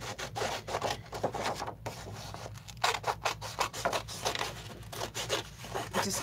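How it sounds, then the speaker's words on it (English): Scissors snip through paper along a line in a quick, even run of short crisp cuts, close and fairly quiet, with no talking. "Just cut it right on that line."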